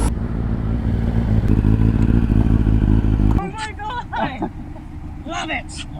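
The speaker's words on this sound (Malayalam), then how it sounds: "അവരുടെ ബൈക്ക് ഇതാ കേട്ടോ, നമ്മുടെ ZX 9R" A Kawasaki ZX-9R motorcycle engine rumbles steadily and loudly up close for about three seconds, then cuts off, leaving people talking nearby.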